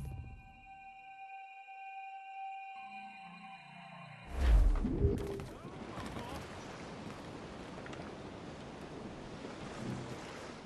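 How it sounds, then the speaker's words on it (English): Strong wind at sea in the game Assassin's Creed Rogue Remastered. A tonal sound fades into a loud gust, then steady, rushing broadband wind and surf-like noise that carries on to the end. "That's quite a wind, Captain!"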